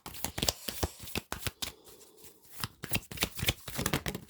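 Oracle cards are shuffled and drawn by hand in quick, close, crisp riffling flutters, with brief pauses and soft slaps between bursts.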